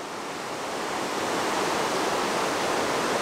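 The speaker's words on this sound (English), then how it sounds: "Look at that beautiful creek down in there." A creek flows through Crazy Woman Canyon, a steady broadband rush of water that holds even and constant throughout, with no voices.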